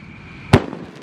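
A super jumbo Roman candle firework set off on New Year's Eve 2022 fires one loud, sharp burst midway, over faint background noise, followed by a brief crackling tail.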